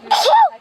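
A single quick sneeze from a child, close and clear, while planting seeds in an urban garden in New York City.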